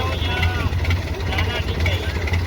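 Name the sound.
loud boat engine without a silencer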